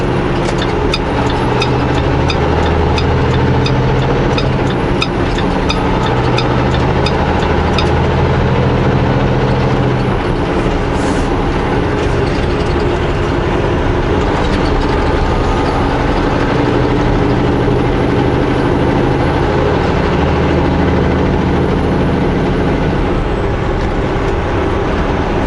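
A truck engine drones steadily and loudly as it drives down Rogers Pass, with a low, continuous rumble and a faint rhythmic ticking early on.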